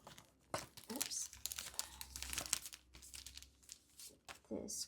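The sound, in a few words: crinkling craft paper vinyl being handled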